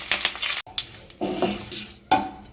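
Black mustard seeds, dried red chillies and curry leaves sizzle and crackle in hot oil as a tempering for an aloo paneer curry, with bursts of loud spitting, a brief pause and a sharp late flare, heard up close with no voices.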